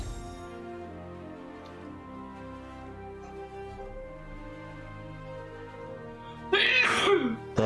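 A single sharp sneeze bursts out loud and close near the end, over steady background music during a Fortnite stream.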